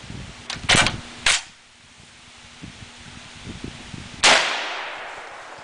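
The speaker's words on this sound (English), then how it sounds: "The gun, it shot extremely accurate with the Buffalo bore sniper ammo." An FNH FNAR 7.62x51 semi-automatic rifle fires outdoors: a quick pair of sharp cracks, then a third shot, then one more loud report several seconds later, each with a short ringing tail, over faint wind.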